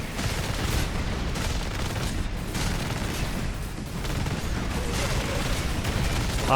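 A special one-time-use gun that overheats after a few shots fires in a Warhammer 40,000: Space Marine video game, with dense rapid bursts and booms amid heavy battle noise.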